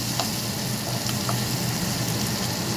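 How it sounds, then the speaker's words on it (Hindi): Masala frying and being stirred for goat meat karahi makes a dense, loud, continuous sizzle, with light scraping from the turning. "थोड़ा सा उलट कर दें ताकि मसाला भी भून जाए।"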